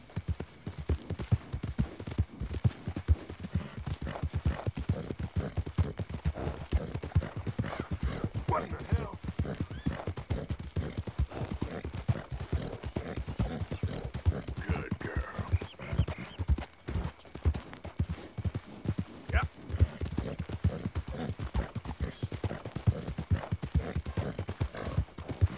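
Horse hooves clip-clop steadily in Red Dead Redemption 2, a continuous rhythmic trot of loud close hoofbeats, with someone talking over them at times.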